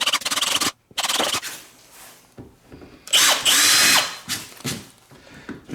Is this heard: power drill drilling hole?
yes